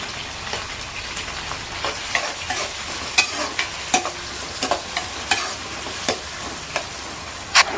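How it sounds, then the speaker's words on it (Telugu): Three small green chillies and onion pieces frying in a pan, a steady sizzle punctuated by sharp spatula clinks and scrapes as the mixture is stirred, close and fairly loud. "ఇందులో మూడు చిన్న సైజు పచ్చిమిర్చి కూడా వేసేసుకోవాలి వేసి ఒకసారి బాగా కలపాలి"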